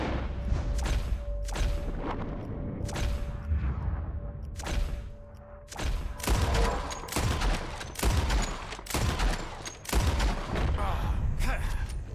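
Rifle shots aimed at birds in Red Dead Redemption 2, a rapid scatter of about a dozen sharp, loud cracks in irregular bursts, with quieter gaps and a faint steady hum between them.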